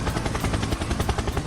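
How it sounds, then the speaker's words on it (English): Helicopter in a multiplayer shooter video game, a rapid rotor thumping that pulses steadily and loudly for its whole short length with no voices. "Helicopter, helicopter!"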